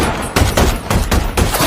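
Several sharp, loud gunshots from the 2017 film Wind River fire in quick irregular succession from inside a caravan, a rapid burst of gunfire with no voices.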